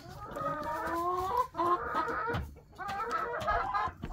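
A hen clucks and croons close by in three drawn-out, wavering bursts with short gaps between them.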